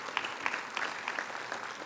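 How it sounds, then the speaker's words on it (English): An audience claps for gold medalists at a ceremony, a brief burst of steady, moderately loud applause from a mid-sized crowd. "A big round of applause for all the"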